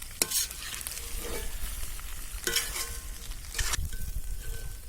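Country chicken masala fries on a wood stove as a utensil stirs it, with a low steady sizzle and a few bright scraping strokes against the pan at regular intervals.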